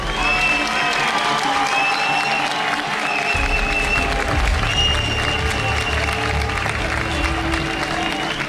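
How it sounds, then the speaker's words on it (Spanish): Arena crowd at a boxing event applauds the two fighters after the bout, sustained loud clapping mixed with whistles and cheers, with a low rumble joining partway through. "Yo quiero un fuerte aplauso para estos 2 luchadores."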